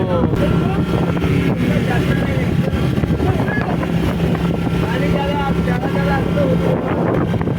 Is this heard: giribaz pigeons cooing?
no